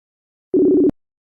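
Short electronic phone-line tone during a call reconnection, a single steady buzzy beep lasting under half a second, cutting off sharply with a click, then silence.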